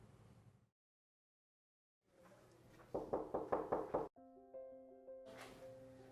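Knocking on a door, a quick run of about six firm raps after a pause, followed by a short chime-like tone and a burst of noise; no talk.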